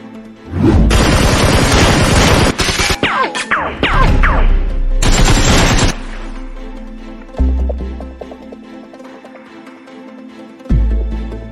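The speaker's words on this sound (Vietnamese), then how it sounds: "Tiếng súng ở đâu ấy nhỉ?" Toy gunfire from a staged Nerf gun battle comes as loud clustered bursts of bangs and crashes, with short pauses and a few later single hits, alongside a soundtrack and no speech.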